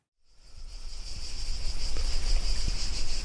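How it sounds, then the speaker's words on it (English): A steady, dense chorus of crickets chirping in an Italian valley in summer, building up from silence and continuing evenly, with no voices. "Nothing speaks summer to me more than the sound of crickets in this Italian valley."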